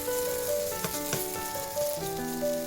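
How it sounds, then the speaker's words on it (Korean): Potatoes and onion stir-frying in cooking oil in a pan, a steady close sizzle with brief stirring scrapes, with sustained tonal music layered over it. "양파를 넣고 볶고"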